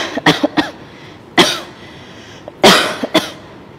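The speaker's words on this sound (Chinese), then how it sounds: "我咳嗽是不是挺影响大家看看车？" A woman coughs in several short, close bursts: a quick cluster first, then two heavier single coughs, and a final pair, with quiet room tone between them.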